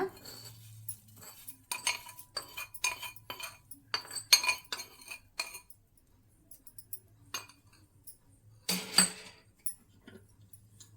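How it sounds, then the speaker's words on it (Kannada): Split moong dal kosambari being mixed with cooled tempering, metal utensils clinking against a bowl in scattered bursts of short, bright taps with quiet pauses between. "ಇವಾಗ ಹೆಸರುಬೇಳೆಗೆ ಮಿಕ್ಸ್ ಮಾಡ್ಕೊಳ್ಳೋಣ."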